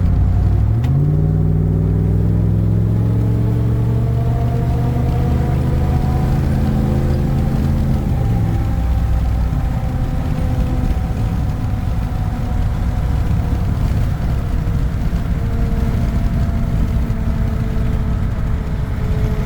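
A pickup truck engine revs up and settles into a steady rumbling drone while driving, loud and close with road noise throughout.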